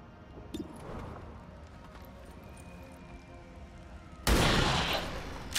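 Gunfire in the XCOM 2 video game: a scattered, muffled burst early on, then a loud, sudden volley that cuts in near the end and keeps sounding.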